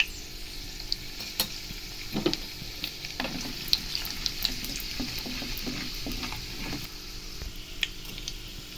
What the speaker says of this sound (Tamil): கடுகு பொரிஞ்சதும் கடலைப்பருப்பு, சீரகம், காஞ்ச மிளகாய் போட்டுக்கலாம்.